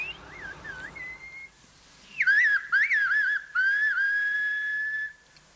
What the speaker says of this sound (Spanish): En la región de los escarpados acantilados volcánicos de La Gomera, el lenguaje no es articulado, sino silbado.